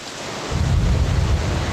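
Steady heavy rain in the Amazon basin hisses broadly while a deep thunder rumble swells in about half a second later and rolls on under the downpour.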